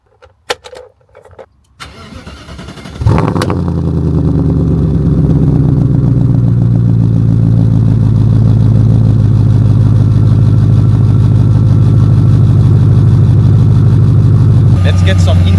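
A BMW E30 fitted with an M60 B40 4-liter V8 cold starts: a few clicks, a starter crank, then the engine catches and settles into a loud, steady, rumbling high idle close by.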